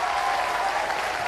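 A studio audience at Robot Wars claps steadily and loudly throughout, a dense wash of applause with a faint crowd murmur mixed in.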